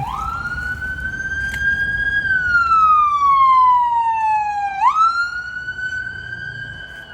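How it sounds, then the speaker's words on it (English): A wailing siren sweeps up and down in pitch, steady and fairly close, then jumps back to a high tone as the vehicle passes. "there's a siren coming through"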